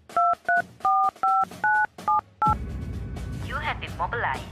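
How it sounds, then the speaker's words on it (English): Telephone keypad tones beep as a seven-digit number is keyed in, seven crisp, evenly spaced dual-tone presses, followed by a burst of broadband noise and warbling sounds. "To listen to your message, please key in your 7-digit NRIC number followed by the hex key."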